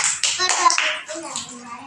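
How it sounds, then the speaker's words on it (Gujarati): Children clapping in a group at a preschool, a few quick bursts of hand claps mixed with young voices talking and calling out over them. "તાળી પાડો બધાય."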